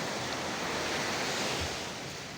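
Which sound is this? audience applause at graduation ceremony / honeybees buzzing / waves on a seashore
waves on a seashore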